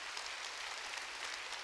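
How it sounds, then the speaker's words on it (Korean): Congregation clapping in a church during a sermon, a soft, even patter of many hands that continues for under two seconds at a fairly quiet, distant level. "세게 치라고 박수."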